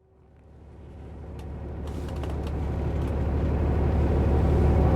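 Interior of a bus waiting to leave on a trip from Busan to Jeju Island, a low engine rumble and cabin drone that builds steadily louder, with faint clicks and knocks above it.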